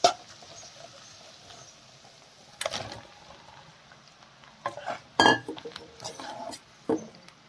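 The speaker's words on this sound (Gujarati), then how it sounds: "બધી જ વસ્તુ ફટાફટ મિક્સ કરી લઈએ" Idli and spices are stirred in a pan, with quiet scraping and sporadic sharp clinks of a utensil against metal, several louder knocks standing out over a faint background.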